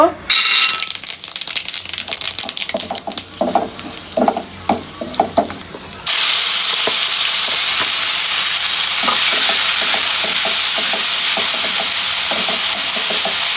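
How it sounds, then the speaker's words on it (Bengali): Doi katla fish curry cooking in oil in a pan: stirring and scraping clatter with intermittent sizzle for several seconds, then a loud steady frying hiss as ingredients hit the hot oil, continuing to the end. "এখন আমরা এই তেলেই রান্না শুরু করব"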